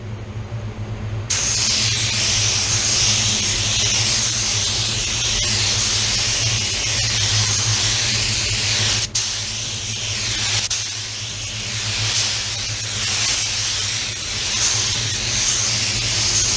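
Paint spray gun laying a medium wet coat on a car panel, a steady loud hiss that starts abruptly and runs continuously, briefly interrupted once, close to the mic over a low booth hum.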